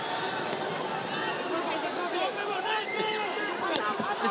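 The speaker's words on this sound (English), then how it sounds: "The crowd on their feet." A boxing arena crowd on its feet during a heated round, dense roaring chatter and cheering throughout, loud and continuous with sharp shouts and whistles rising above the sustained hubbub.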